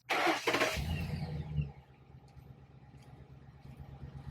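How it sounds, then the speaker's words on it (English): Car engine cranks and fires up, a loud burst of starter whirr and catch followed by the engine settling into a quiet, steady idle. "I like to start the car up."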